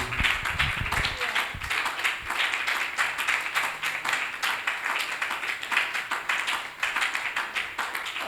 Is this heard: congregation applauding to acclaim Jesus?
yes